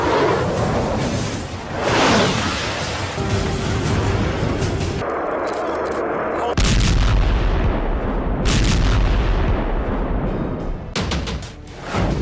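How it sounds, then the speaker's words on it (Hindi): Iranian missile test launches and explosions sound as a series of heavy roaring blasts and booming bursts with rushing whooshes, loud and close, cutting abruptly between separate loud events. "ईरान ने 2 मिसाइल धमाके किए"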